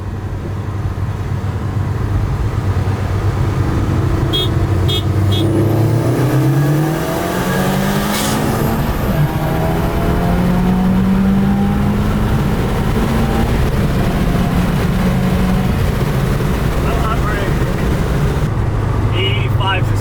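A modified Subaru WRX or STI engine, stage 1 tune on E40 fuel, revs hard in second gear and climbs in pitch under heavy acceleration, loud and droning throughout, with brief voices in the background.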